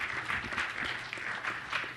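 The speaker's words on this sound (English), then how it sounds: "I never thought I'd get an applause just for getting back the title of like a website" Applause from a conference audience, with many hands clapping in a brief, steady burst that fills the room at moderate loudness.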